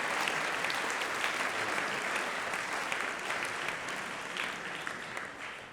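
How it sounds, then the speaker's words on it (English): Sustained applause from parents and audience at a school winter concert, a dense, even roar of many hands clapping that fades slightly toward the end. "Can we give those parents a big round of applause"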